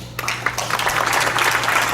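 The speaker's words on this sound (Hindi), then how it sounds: "उस खुशी में आप बजाना चाहे तो ताली बजाइए" An audience at a Geeta satsang in Canada breaks into hand clapping, a dense, steady patter of applause that starts abruptly and holds to the end.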